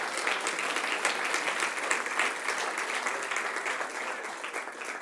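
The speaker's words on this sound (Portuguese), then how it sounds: "aplauda forte o nome dele" A church congregation applauds loudly during a sermon, a steady, full round of clapping from many hands that holds for several seconds before tapering slightly at the end.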